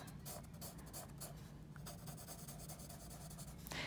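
Pencil shading on sketchbook paper, faint soft scratching strokes repeated in quick bursts, close up and quiet, with no talking.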